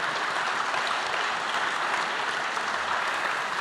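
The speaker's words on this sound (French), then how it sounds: "On peut applaudir Madame Silvestri." Steady applause from a crowd fills the whole stretch, dense and even with no pauses or voices standing out.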